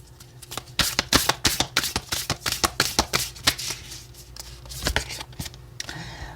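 Oracle cards shuffled by hand during a weekly tarot reading: a rapid, rhythmic run of close, crisp papery riffles and taps lasting several seconds, then a softer swishing at the end, with no talking.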